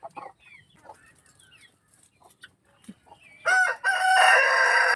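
A rooster crows near a chicken coop on a small home plot with a bare earth floor, the loud crow bursting in after a few seconds of soft scattered bird clucks and quiet rustling.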